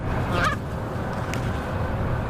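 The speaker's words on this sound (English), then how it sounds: "Warmer weather means nesting season for Canada geese, a time of year when they're known to be aggressive." A single Canada goose honk rises briefly over steady outdoor background noise during nesting season on a campus; the call is short and moderately clear, and no voices are heard.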